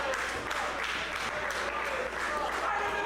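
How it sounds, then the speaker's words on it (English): Wrestling arena crowd applauding and cheering continuously, a dense steady wash of clapping and yelling at even loudness throughout, with voices mixed in. "He's getting the crowd going"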